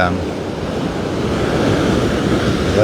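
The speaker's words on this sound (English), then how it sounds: "sound of the ocean waves take up most of the audio while we're here" Ocean waves wash onto a beach at Ilha de Tavira, a loud continuous roar of surf mixed with gusting wind buffeting the microphone, growing slightly toward the end.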